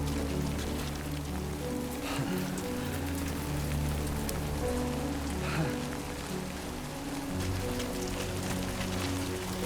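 Steady rain pours down without pause in the video game Death Stranding 2: On the Beach, a dense hiss of drops striking surfaces along with a low rumbling undertone, with no voices.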